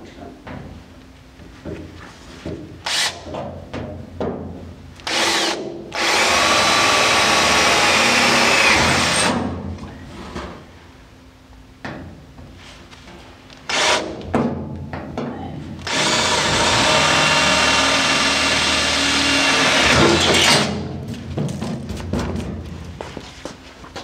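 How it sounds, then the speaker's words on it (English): A power drill bores pilot holes in a GT3 road race car chassis, with two long loud whining runs of several seconds each, separated by clicks, handling knocks and short bursts. "Pilot drill holes at each end of that mark."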